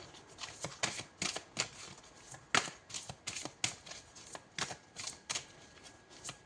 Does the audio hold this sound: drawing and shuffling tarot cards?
yes